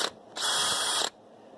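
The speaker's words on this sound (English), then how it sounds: "got a 1/2 inch drive brushless DeWalt, model number DCD791" A DeWalt DCD791 brushless 1/2-inch drive drill spins up briefly, a close, steady high-pitched whir lasting under a second before cutting off.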